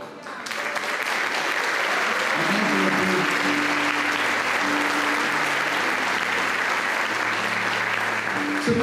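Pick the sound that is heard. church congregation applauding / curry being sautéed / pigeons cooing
church congregation applauding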